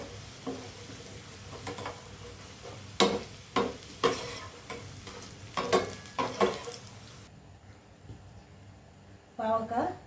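Onion and bitter gourd frying in a pan, a soft background sizzle broken by repeated scraping stirs and clinks of a spatula against the pan, quiet and close.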